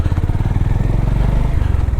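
A small quad bike engine idles close by with a fast, even, throbbing putter that stays constant throughout.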